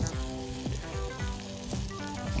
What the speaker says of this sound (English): Ooh, sizzling.